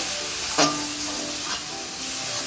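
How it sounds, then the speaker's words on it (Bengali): Tomato, turmeric, salt and chili powder frying in a pan, a soft continuous sizzle with one sharp spatula clink against the pan and a fainter scrape later. "টমেটো কুচি হলুদ নুন দিয়ে দিচ্ছি লঙ্কা গুঁড়ো এটাকে আমি এখন কিছুক্ষণ কষিয়ে নেব"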